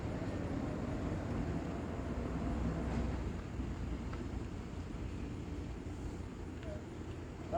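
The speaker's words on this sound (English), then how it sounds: "There's a train coming." A train rolls past at Old Town Bowie, heard as a steady, close, low rumble that holds for several seconds. Faint voices of onlookers sit in the background.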